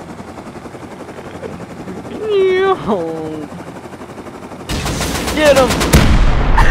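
Video game helicopter strafing run with bursts of rapid machine-gun fire over rotor noise, loud and close, while players shout excitedly.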